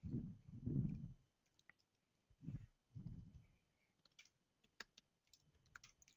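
Keyboard typing in bursts, soft clicks and clattering keystrokes close by in a quiet room, with pauses between flurries and a few isolated taps near the end.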